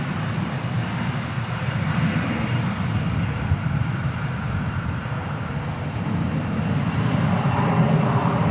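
An airplane on the taxiway and runway at DFW Airport produces a steady, loud engine roar that holds at an even level and swells slightly toward the end, with no talking.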